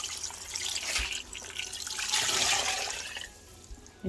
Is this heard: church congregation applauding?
no